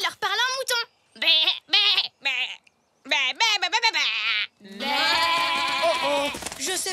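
A cartoon character's voice imitates sheep bleating in a series of wavering, quavering baa calls, short bursts separated by pauses and then one long sustained bleat, loud and close.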